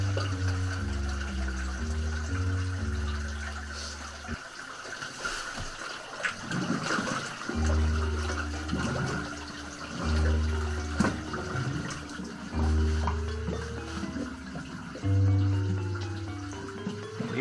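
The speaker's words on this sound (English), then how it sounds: "Andre slipped into the water" Water sloshes and gurgles as caver Andre slips into a flooded cave sump, close splashing and trickling beneath a low, repeating musical drone.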